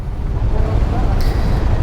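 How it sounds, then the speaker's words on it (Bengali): Traffic jam on a Dhaka street heard from a stopped motorbike, a loud steady low rumble of engines and road noise with a short higher tone near the end. "বের হতে না হইতেই জ্যামের মধ্যে পড়ে গেলাম"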